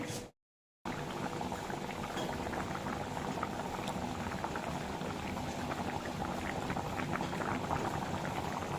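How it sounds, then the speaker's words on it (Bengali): Fish curry bubbling in a pot on the stove, a continuous dense boiling burble heard close and even after a brief silent gap at the start, with no voices. "এই যে মাছের তরকারিটা ফুটছে"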